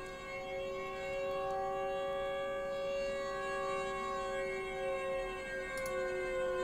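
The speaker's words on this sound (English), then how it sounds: "A siren sound." A video game's wailing civil defense siren holds a steady, harmonic drone, loud and continuous, with faint background noise and no voices.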